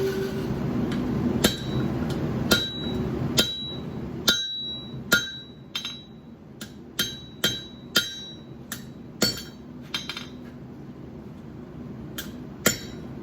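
A hammer strikes a metal blacksmith's cutting tool in a series of sharp ringing blows at irregular intervals, close and clear over a low background rumble.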